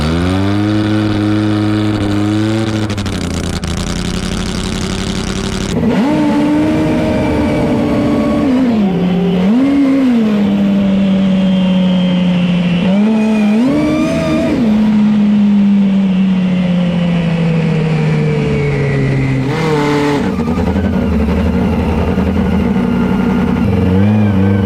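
Nitro fuel drag racing machines at a drag strip, their engines roaring loudly with rising and falling revs and pitch sweeps as they run, a continuous close, powerful engine sound with no talking.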